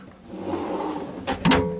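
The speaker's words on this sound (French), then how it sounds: "Ici, les tiroirs." Drawers on a Nimbus boat slide open or shut, a brief sliding rumble ending in two sharp wooden knocks, close by and alone.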